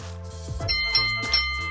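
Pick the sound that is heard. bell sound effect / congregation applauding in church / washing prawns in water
bell sound effect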